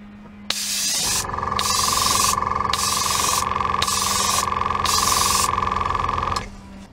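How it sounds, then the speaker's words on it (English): An airbrush sprays Vallejo gunmetal paint thinned with flow improver in a loud, close hiss, fired in five even bursts over a constant compressor hum that stops at the end. "And now I'm gonna load up the airbrush with some Vallejo gunmetal and Vallejo flow improver."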